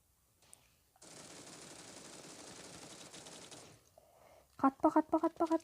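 Bursts of rapid automatic gunfire from a machine gun in the mobile shooter game Standoff 2, a short rattling volley after a steady hiss, fairly quiet in the mix.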